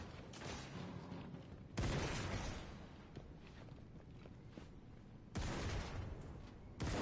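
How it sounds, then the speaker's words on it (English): Gunshots in a video game ring out as a few loud, abrupt blasts spaced several seconds apart, each cutting sharply through a dim, rumbling background with no voices. "What the fuck are they shooting at?"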